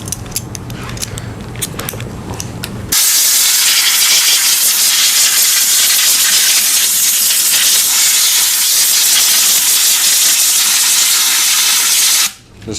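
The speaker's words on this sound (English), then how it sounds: "When the parts are wet from the parts washer, take some compressed air." Compressed air blowing wet bicycle parts dry after a parts washer, a loud continuous broadband hiss lasting about nine seconds before cutting off, alone without talk.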